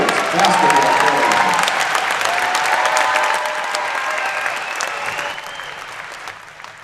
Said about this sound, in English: let's give one more round of applause to our senior wrestlers, cheerleaders, and boys basketball players.